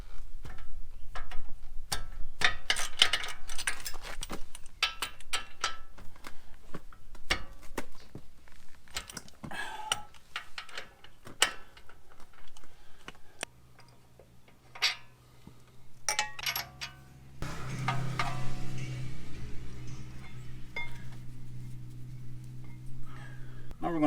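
Rapid ratchet clicking from a ratchet with a 22mm socket loosening brake caliper bolts on a Jeep Wrangler JL, close and rhythmic in bursts, with metallic clanks and a low hum later on.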